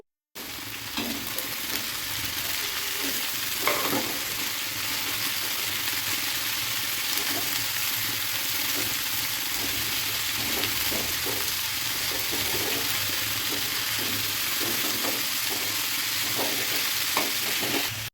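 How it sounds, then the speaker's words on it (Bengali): Cauliflower and potato fry in sunflower oil in a pan. A steady, close sizzle runs throughout, with occasional scrapes and clicks of stirring and no talking. "ফুলকপি আলু জুড়ি দিয়ে রেখেছিলাম ওটাই দিয়ে দিলাম সন্দক লবণ দিয়ে দিব আর এই রান্নাগুলো কিন্তু সূর্যমুখীর তেলে করছি"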